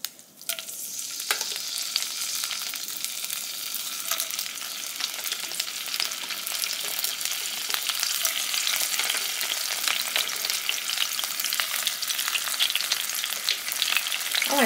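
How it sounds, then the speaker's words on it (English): Minced garlic fries in a pan on medium heat, giving a steady close crackling sizzle that grows slightly louder throughout, with no talk. "We're gonna add some minced garlic."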